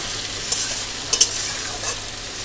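Onions soften in a hot pan while being stirred for a freshwater eel (ban fish) curry, giving a steady low sizzle broken by a few soft scraping stirs, close and without talk.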